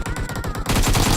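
Rapid bursts of automatic gunfire in a competitive Dead by Daylight-style online shooter match, a dense run of sharp shots followed by a heavier, continuous barrage.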